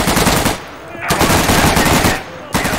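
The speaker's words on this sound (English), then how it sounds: "What are you shooting at?" Dense automatic weapon fire from a World War II style multiplayer shooter game sounds loud and close in nearly continuous bursts, broken by a couple of brief pauses.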